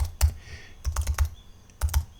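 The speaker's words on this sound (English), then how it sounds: "if you were to type MuniMeterHealth" Typing on a computer keyboard indoors, a few quick clusters of soft key clicks with short gaps between them, close and quiet, no talking.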